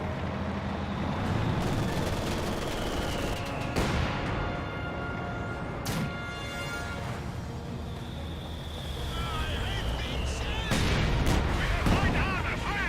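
Company of Heroes 2 combat with a Puma armored car under fire, gunshots and booming artillery from an SU-76, plus vehicle rumble and scattered impacts. The mix is loud and continuous, with sharp blasts standing out.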